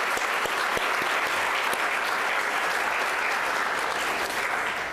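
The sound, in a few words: audience applause at valedictorians luncheon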